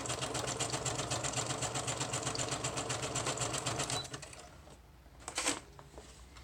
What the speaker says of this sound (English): I'm just zigzagging all the way around just to get everything sewn down.